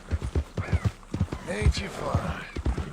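Horse hooves clip-clop in the video game Red Dead Redemption 2, steady rhythmic thuds at close range, while a voice speaks over them.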